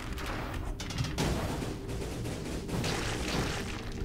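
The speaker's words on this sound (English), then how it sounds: "Hooray for the quick bow, and just the ability to just rapid fire non-stop." Rapid, non-stop firing of the quick bow in the Dead Cells video game, a dense, steady stream of sharp shots with game sound effects layered over it for a few seconds, and no talking.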